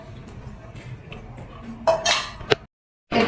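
A pot holding chicken stew is set down into a metal steamer, giving a few close clinks and one sharp clank before a brief silence and a final rattle.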